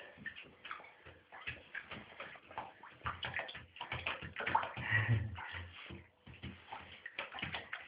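A small lizard in its first bath, paddling through shallow bath water: continuous light splashing and sloshing with irregular little ripples and taps, close and fairly quiet, with no voices.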